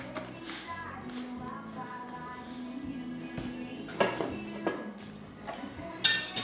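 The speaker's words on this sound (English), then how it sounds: "Give this a stir with a whisk" A whisk stirs sour cream and salt in a bowl, giving soft, irregular clinks and scrapes against the dish, close and fairly quiet, with a few sharper taps.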